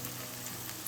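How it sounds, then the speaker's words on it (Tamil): Ingredients for kathiri kara kuzhambu, a Tamil potato and brinjal curry, sauté in a pan with a soft, steady sizzle and crackle, faint and continuous throughout. "இது இன்னும் கொஞ்ச நேரம் நல்லா வதங்கட்டும்"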